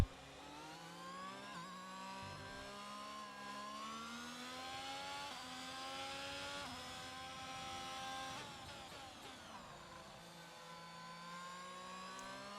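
An F1 car in the F1 22 video game drives into the pits, its engine a steady whining drone whose pitch shifts and steps with gear changes throughout, heard alone without talk.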